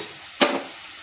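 Onion frying in a pan as a pinch of asafoetida goes in: a brief, sudden burst of sizzling that flares up and quickly fades back to a quiet background hiss.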